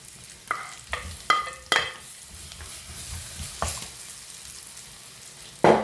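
Tomatoes fry in hot oil in a pan for egg curry, giving a steady low sizzle while a spoon scrapes and stirs in several sharp, loud strokes, with one final clatter near the end.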